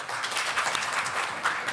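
An audience at a Korean consumer policy forum applauds the panelists and presenters, a short burst of steady clapping that fills the room.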